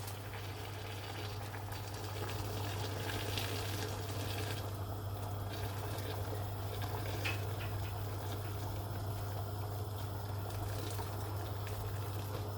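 About 1.5 litres of water poured steadily into a pot of cooking lamb trotters for Kashmiri paye, a soft, continuous rushing and filling sound with a low hum underneath.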